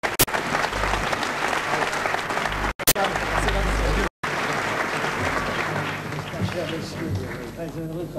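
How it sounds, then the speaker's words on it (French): Sustained audience applause in a hall honoring a literary prize winner, dense continuous clapping throughout with brief cuts, close and loud, with some voices mixed in. "Je vais vous demander de l'applaudir pour son grand talent, pour son prix."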